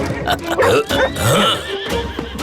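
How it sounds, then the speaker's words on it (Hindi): Horse neighing in an animated Christmas episode, a loud whinny with rising and falling pitch lasting a couple of seconds, mixed with other voices and sounds. "हमारे घोड़े"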